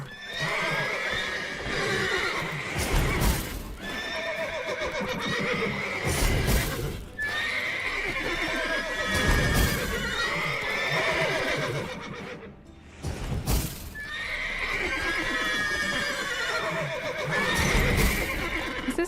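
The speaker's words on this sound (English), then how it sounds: "These horses need to calm down" Horses in The Witcher 3 video game whinny loudly and repeatedly, their calls close and overlapping, with hooves stamping and clip-clopping underneath throughout.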